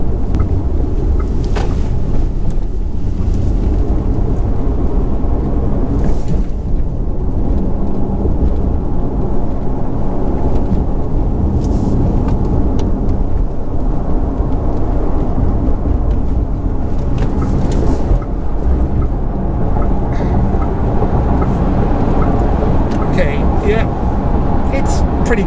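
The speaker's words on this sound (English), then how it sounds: "There's going to be some wind noise because it's quite a big bulky car to push through the air" VW ID. Buzz electric van at high speed on a test bowl, a loud continuous roar of wind and road noise filling the cabin, with someone talking over it throughout.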